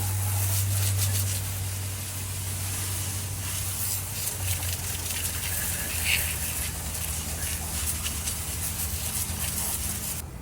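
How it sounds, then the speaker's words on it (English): Water sprays onto a cheap car wheel being rinsed off, making a continuous hissing rush at moderate level with a low hum beneath it and faint spattering throughout. "I might just be able to get away with just rinsing it off"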